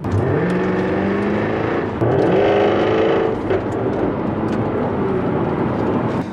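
A Jaguar F-Type engine and exhaust blast loudly from inside the car, the revs climbing in rising sweeps, dropping at a gear change, then climbing again with a steady, full roar.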